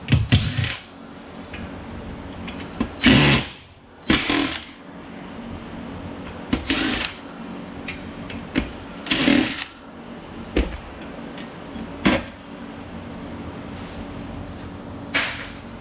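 A driver with a hex bit works on a Wii Fit board to remove a load cell, giving repeated short bursts of whirring and ratcheting with creaks between, close and fairly loud.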